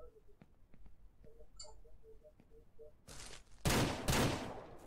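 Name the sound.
gunshot hunting in Ranch Simulator video game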